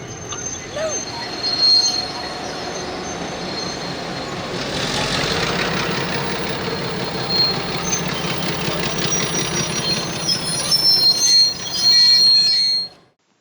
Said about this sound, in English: a V-line standard gauge velocity train arriving into Seymour, bound for Melbourne